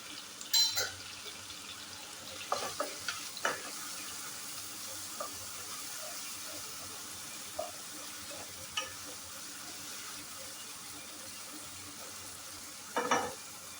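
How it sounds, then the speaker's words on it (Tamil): Tomatoes sautéing in a pan with a pinch of turmeric, a faint steady sizzle with occasional spoon clinks and scrapes, a sharper clatter of utensils near the end. "தக்காளி நல்லா இப்போ வதங்கிடுச்சு."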